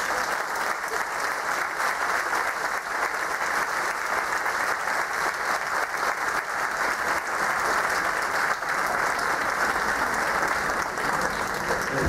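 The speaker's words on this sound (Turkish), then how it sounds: "gecenin en büyük alkışını rica ediyorum" Steady, full audience applause at a choir concert in Karşıyaka, İzmir, a large crowd clapping continuously and loudly for the instrumentalists with no break.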